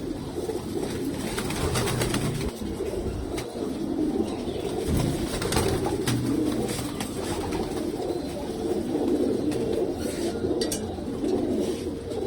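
Pigeons of a pure old bloodline, females among them, coo steadily in a loft, soft repeated low calls layered over one another, with occasional wing flaps and faint clinks nearby.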